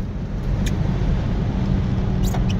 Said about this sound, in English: So I'm going in fifth gear. Looks like I'm going about 50 or 60 miles an hour.